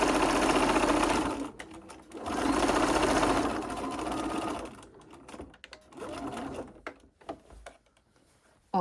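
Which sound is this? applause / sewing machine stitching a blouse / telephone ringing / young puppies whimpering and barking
sewing machine stitching a blouse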